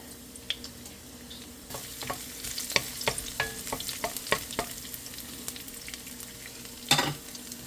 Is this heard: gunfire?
no